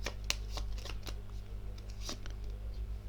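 Tarot cards being shuffled by hand: a quiet, soft riffling and flicking of the deck with light snaps, close by and without talking.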